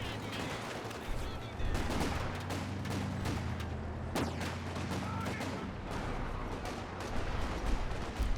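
Dense, continuous battle gunfire from an MG42 machine gun in Company of Heroes 2, with rapid bursts and impacts layered over a constant rumble of combat for the whole stretch, loud and busy throughout.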